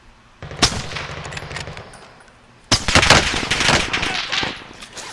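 Rapid automatic gunfire in a combat video game, loud and close, in two long rattling bursts separated by a short lull.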